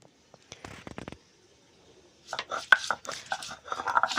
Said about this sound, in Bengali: প্রথমে রসুনগুলোকে থেতো করে নেব